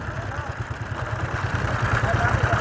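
Tractor engine running steadily at a construction site where concrete is loaded into a trolley, a low rhythmic diesel throb that holds close and constant throughout.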